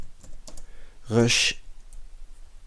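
Text being typed on a computer keyboard, with faint, scattered clicks in a quiet room and a brief voice-like tone in the middle.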